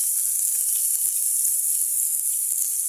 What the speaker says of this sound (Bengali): কচু ভাজি করবো, পেঁয়াজ রসুন দিয়ে দিলাম